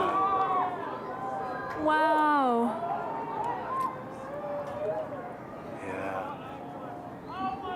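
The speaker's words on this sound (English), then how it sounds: "You can hear people screaming in the background." Crowd cheering and screaming at a total solar eclipse, a steady excited hubbub of many voices with a few rising shouts, while a nearby person talks over it.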